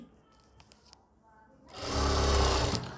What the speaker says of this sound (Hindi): अब मैं यहाँ पर इसको सिलाई लगाऊंगा